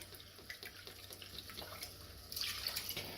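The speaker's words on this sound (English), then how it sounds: "So we're putting in 2 cups of seafood broth." Seafood broth pouring steadily from a container into a cooking pot for oyster stew, a continuous close liquid splash that grows slightly louder near the end, with no voices.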